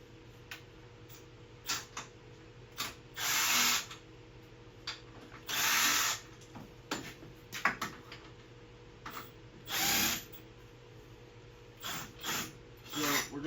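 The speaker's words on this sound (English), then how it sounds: "We're going to take a 17 swivel socket, go in here, and just rip them out." A cordless power tool drives a 17 mm swivel socket to pull bolts from the front differential brackets on an RMAX, sounding as several loud, close whirring bursts of a few seconds each, with quieter clicks and handling noise between.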